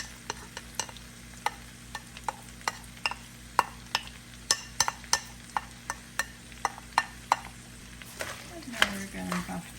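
Chopped onions sizzle and fry in a pot for Polish hunter's stew, bigos, with a spoon scraping and stirring in steady, regular strokes over a constant soft hiss of cooking.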